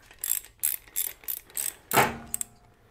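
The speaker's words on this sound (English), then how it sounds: "Support the ratchet with your other hand" A hand ratchet working loose a spark plug on a Harley-Davidson Sportster gives several short clicking bursts in a steady rhythm, close and clear, with no talking.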